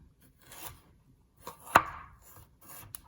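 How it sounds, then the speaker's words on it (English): A knife chopping food on a cutting board into small julienne strips, heard as a few soft cuts followed by one sharp, close chop, with no voices. "Take your knife and make little small strips."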